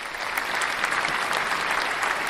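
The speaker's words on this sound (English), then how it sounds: "Applause are for you." An audience applauds steadily with dense, even clapping from a crowd throughout the short burst, loud and close with no talk over it.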